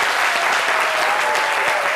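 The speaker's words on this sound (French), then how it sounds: "Je demande qu'on l'applaudisse encore bien fort." Brief burst of dense audience applause for a singer on a midday TV show, steady and fairly loud throughout.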